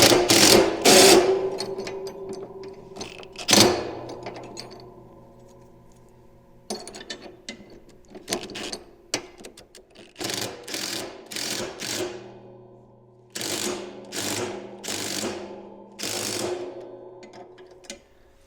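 A gooseneck ratchet wrench tightens the mounting bolts of a KFI ProPoly 72-inch snowplow on a 2024 Polaris Ranger 1500XD, heard as bursts of quick clicking separated by pauses, close and fairly clear with no voices.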